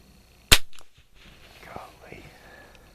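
A Kimber 82G rifle firing club ammunition gives one loud, sharp crack that decays quickly, followed by faint quiet background sound.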